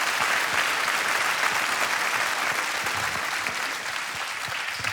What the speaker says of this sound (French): j'espère que t'as bien profité des applaudissements parce que c'était mérité